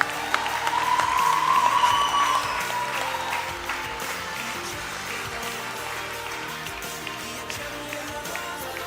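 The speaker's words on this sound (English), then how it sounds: "please give her a heartier round of applause" Sustained applause from an audience at a junior school graduation ceremony, many hands clapping steadily and fairly loudly for several seconds, swelling early and then settling into an even patter.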